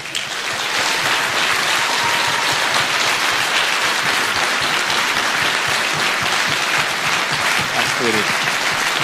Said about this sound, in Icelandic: Ef ekki að gefa þeim gott klapp